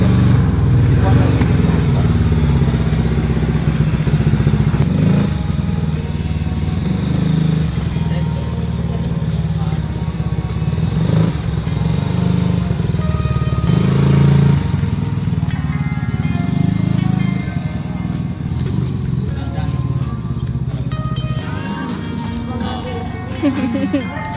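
A motorcycle engine hums steadily and loudly throughout a long ride, with wind and road noise mixed in and people talking over it.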